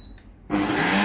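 A Tefal BL967B66 blender with a fault that blocks its menu controls switches on after a brief quiet pause, its motor rising abruptly into a loud, steady whir that holds close up, with no one talking.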